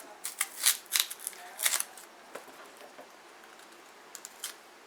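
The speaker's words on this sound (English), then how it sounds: "Our plantain is peeled." Plantains are peeled by hand, making soft crackling snaps and tearing rustles in quick irregular bursts up close, then a few faint scattered clicks.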